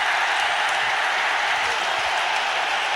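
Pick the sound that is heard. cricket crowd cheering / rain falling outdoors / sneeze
cricket crowd cheering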